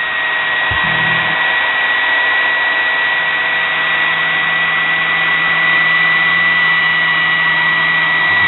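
A small homemade mini grinder whines loudly and steadily at close range, a continuous motor drone with a brief low bump near the start and no voices.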